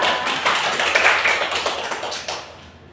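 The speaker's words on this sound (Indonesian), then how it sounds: "Tepuk tangan untuk Anita" A classroom of students applauds a classmate in a dense, even burst of clapping that fades out near the end.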